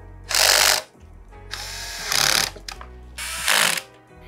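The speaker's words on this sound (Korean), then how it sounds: "일단 이 나사를 먼저 장착을 해놔야겠다" A powered screwdriver drives screws into an SFX-L 650W power supply in a small ITX computer case, with three whirring, ratcheting bursts separated by short quiet gaps, close and clear.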